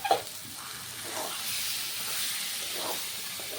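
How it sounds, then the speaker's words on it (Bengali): Boneless chicken pieces hit a pan of masala with a soft thump, then settle into a steady, close hiss and sizzle that continues throughout. "তো চিকেনটা এখন আমি এই মশলাতে দিয়ে দিচ্ছি"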